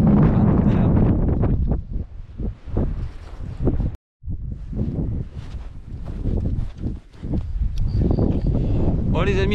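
Strong gusty wind buffets the microphone almost without pause, a loud rumbling roar with one brief drop to silence midway, heard outdoors at a windy viewpoint in the Verdon.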